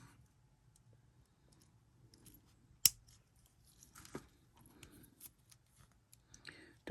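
Scissors snip while making beaded earrings with sari fabric and crystals, a sharp close cut standing out amid soft fiddling sounds and low background hum.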